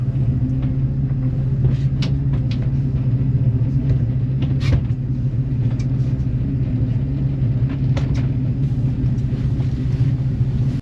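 A boat's engine runs steadily after a hesitant start, giving a continuous low rumbling drone with a few faint clicks and knocks over it and no talking.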